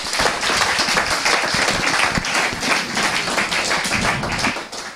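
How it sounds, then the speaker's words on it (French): A church congregation claps loudly and steadily, a dense continuous burst of hands that fills the space for several seconds before tapering off at the end. "Applaudissez Jésus."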